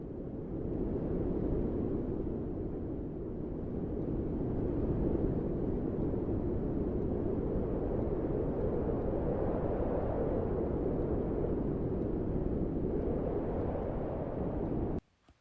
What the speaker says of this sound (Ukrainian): А це шум вітру.